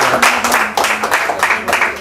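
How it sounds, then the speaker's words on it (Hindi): Bursts of clapping from a stand-up comedy audience rise and fall over about two seconds, with a voice-like tone running underneath, as if a small crowd is cheering in waves. "एक बार अपनी जोरदार तालियां यार।"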